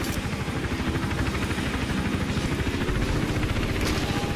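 A helicopter hovers over a rooftop in the video game Hitman Absolution, its steady, loud rotor chop pulsing evenly with a low engine drone throughout, with no voices.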